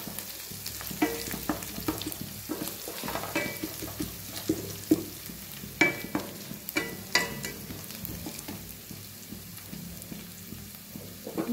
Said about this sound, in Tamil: இந்த பச்சை மிளகா, கருவேப்பிலை இதெல்லாம் நல்லா எண்ணெயிலேயே வணங்க விடுங்க